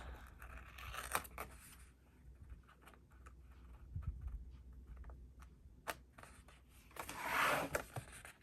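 Scissors cut paper for an art journal page, making soft snips and a rustle of paper up close. A louder, brushing rasp swells near the end, and no one speaks.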